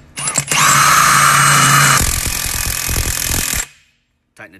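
An impact gun runs a 33mm lug nut onto a dually or semi truck wheel stud: a loud rattling hammer burst of about three seconds that changes pitch partway, then stops abruptly, close up.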